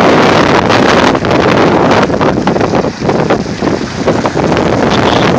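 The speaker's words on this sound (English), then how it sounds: "Wind's gonna die down soon because of the islands" Strong, steady wind roars across the microphone aboard a Helmsman 23 sailboat under sail, loud and continuous with gusty buffeting and water rushing beneath.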